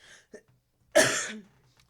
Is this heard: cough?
yes